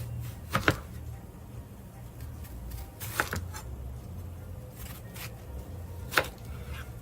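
A knife cuts an onion on a board outdoors during grilling prep, three sharp separate chops spaced a few seconds apart over low steady background hum.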